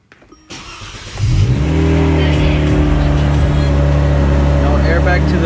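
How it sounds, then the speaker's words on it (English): A Kia Stinger's engine starts up: a brief crank, then the engine catches with a loud rising roar and settles into a steady, throaty idle for several seconds, with no talking. "Let's turn on the car."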